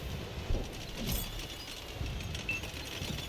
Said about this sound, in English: We pop a reload